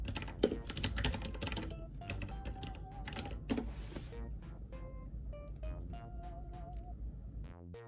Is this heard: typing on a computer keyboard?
yes